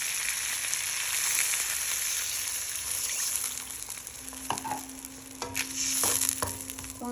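Jackfruit pieces coated in spices fry with a steady broad sizzle, then water is poured into the hot pan, adding splashy gurgles and brief clatters over the continuous hiss.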